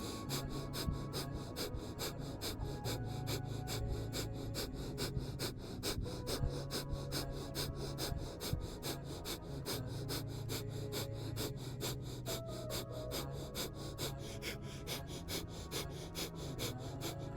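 Rapid, rhythmic, forceful breaths repeat steadily throughout a guided breathing exercise, close and fairly quiet over faint background music, with no talking.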